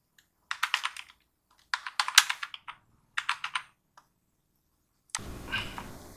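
Keyboard typing as text is entered in Photoshop 7.0: three quick bursts of close, crisp key clicks separated by short pauses, followed by a brief stretch of broadband hiss.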